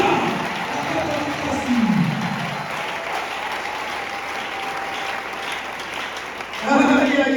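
A church congregation applauds throughout, with steady massed clapping, a crowd murmur and voices mixed in, and a louder swell at the end.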